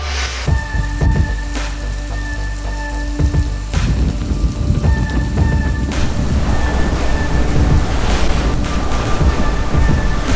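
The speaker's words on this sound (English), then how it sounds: "We're venturing out into the storm." Heavy tropical storm rain pours down around an RV during hurricane season, a dense, loud, continuous hiss of drops on surfaces with wind buffeting the microphone; no clear thunder comes through.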